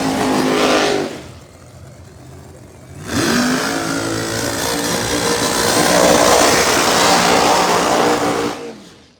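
A ProMod drag race car, a 1957 Buick with a YO Motorsports power plant, testing at Bradenton Motorsports Park: a loud, close engine roar, a brief dip, then a sustained full-throttle blast that cuts off at the end.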